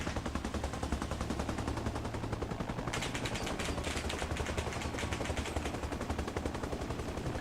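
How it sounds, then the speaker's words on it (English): Gunfire from a BTR armored vehicle in a video game, sustained rapid bursts rattling continuously, loud and dense, with a brighter stretch of shots midway. "BTR is over there, and it's opening fire on transport Hilo."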